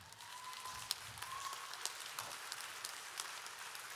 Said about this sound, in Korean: 듣기 원하시는 분들은 박수 한번 치시죠.